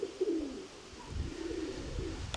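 Pigeons flying fairly low out in the open give soft cooing calls, a couple of faint, brief coos over quiet outdoor background noise with no speech.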